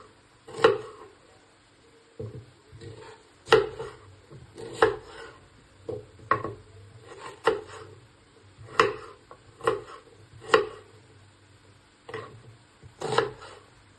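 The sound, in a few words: chopping onion into thick pieces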